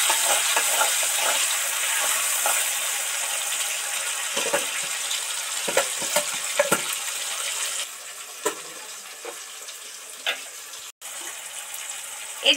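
Chopped onions fry in a pan for a spicy sea crab curry, giving a steady, close sizzle with scattered crackles and pops over about twelve seconds; there is no talking.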